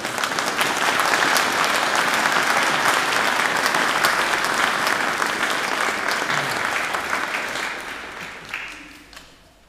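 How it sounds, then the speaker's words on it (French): A church congregation at a Sunday mass in Carnac claps for Lola, a steady wash of many hands that holds loud for most of its length and then thins out and fades toward the end. "si on peut applaudir pour Lola"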